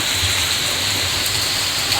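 Steady rain hisses evenly and loudly in Amritsar, a dense, unbroken wash of falling water with no voices over it.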